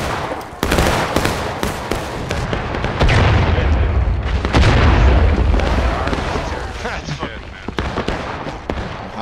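Musket volley fire in a video game battle, with loud booming and crackling shots bursting repeatedly and a sustained heavy rumble in the middle, while voices talk over the gunfire.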